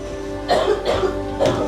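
Three short, harsh coughs, close by, over a steady background hum.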